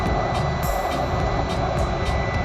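A BioLite CampStove 2 fan runs at full speed over a wood fire, giving a loud, steady jet-like roar with faint rhythmic ticking through it.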